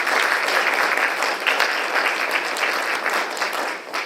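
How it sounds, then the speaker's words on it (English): An audience applauds Dr. Owen and Dr. Thomas at the close of a school district professional development speaker session, a steady, dense round of clapping that holds for about four seconds before easing slightly at the end. "can you guys give Dr. Owen and Dr. Thomas a round of applause?"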